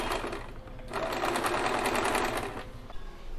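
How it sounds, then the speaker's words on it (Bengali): A sewing machine stitches fabric for a small nappy in a continuous fast mechanical run, close and steady, with a brief slowdown partway through. "ঠিক সেম প্রসেসে এই দিকেও কিন্তু আমি এটা সেলাই করে নেব"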